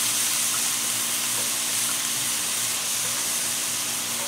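A T-bone steak sizzling on a cast iron griddle pan over medium heat, a dense, steady hiss of frying fat that continues unbroken at an even, fairly loud level, close up with no talking.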